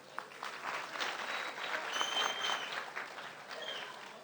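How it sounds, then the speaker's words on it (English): An audience at an annual company party gives a round of applause, a steady wash of clapping from many hands that swells and then tapers off. "we'll still give her a round of applause"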